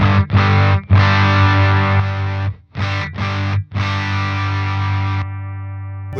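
A DevTech Audio Skylight overdrive pedal in germanium mode gives loud, saturated distorted guitar chords in several bursts separated by short gaps, ending on a sustained fading chord.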